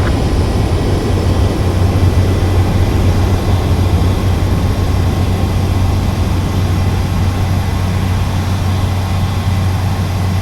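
A jet plane's engine roars loud and steady through a landing in the Ace Combat 7 video game, a dense continuous drone with a heavy low rumble and no break.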